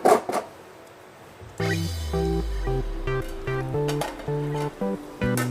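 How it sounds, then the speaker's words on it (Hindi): Masala spices for paya curry fry in a pan, giving a steady close sizzle broken by repeated clinks and scrapes of a spoon against the cookware, with no speech. "अच्छे से भून चुका है मसाला हमारा।"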